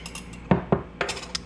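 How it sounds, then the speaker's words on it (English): Dry banana nut muffin ingredients stirred in a mixing bowl with a utensil, giving a few sharp clinks and scrapes against the bowl, close and moderately loud, with no talking. "Give us a nice stir. Mix all those dry ingredients together."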